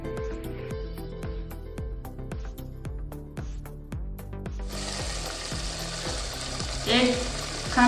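Potatoes and meat frying for aloo gosht, a steady close sizzle with stirring scrapes and pot clinks through the first half, then a denser, louder hiss of frying that swells near the end.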